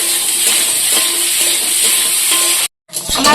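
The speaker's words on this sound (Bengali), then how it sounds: "লাল লাল করে আলুগুলো ভেজে নিয়েছি" Loud, steady frying sizzle from potatoes in a pan, with faint stirring scrapes, cutting out briefly near the end before resuming.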